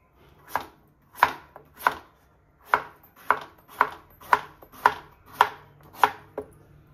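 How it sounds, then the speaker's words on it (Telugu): A knife chops a tender vegetable into pieces on a board, about ten distinct, crisp thwacks in an even, unhurried rhythm, close and clear with quiet gaps between strikes. "ఇప్పుడు ముక్కలు కట్ చేద్దాం."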